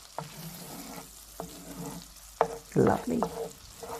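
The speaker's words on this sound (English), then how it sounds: "Gently stir and saute for a minute over medium heat until fragrant." Grated garlic sautéing in melted butter over medium heat, a soft sizzle broken up by repeated scraping and stirring strokes near the pan, with one brief spoken word.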